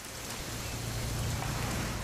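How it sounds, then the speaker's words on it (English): Steady rain in the video game What Remains of Edith Finch hisses evenly across the whole stretch, a dense wash of falling drops with a low rumble beneath, no voices. "It's gonna rain the whole weekend,"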